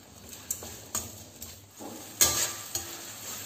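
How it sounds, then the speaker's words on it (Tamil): Brinjal and tomatoes sauté in a pan, a soft sizzle running under light scraping stirs and several sharp utensil taps against the pan, close and fairly quiet, with no voices. "தக்காளி கத்திரிக்காய் எல்லாமே நல்லா வதங்கிருச்சு."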